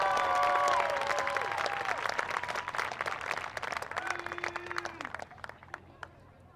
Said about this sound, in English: Please give Regina a round of applause.